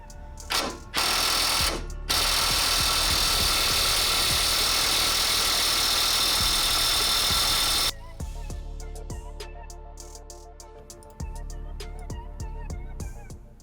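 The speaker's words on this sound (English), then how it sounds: "Now I'm going to try to see if the mid-torque impact wrench will work instead." A mid-torque impact wrench hammers loudly on a stubborn suspension nut of a second-generation Toyota Tundra, several short bursts then a long continuous rattling run, followed by a lower buzzing whir as the nut breaks loose.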